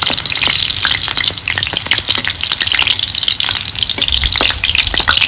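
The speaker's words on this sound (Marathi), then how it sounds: "तुपात फुलं तळली ना की रंग बदलतो." Flowers frying in hot ghee, a loud, steady sizzle and crackle of bubbling fat that continues unbroken with no one speaking.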